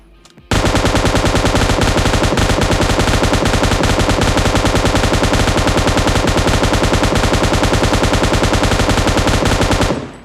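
An M249 machine gun in PUBG fires one long unbroken burst with the bipod disabled while standing, a loud rapid rattle of shots lasting nearly ten seconds before cutting off.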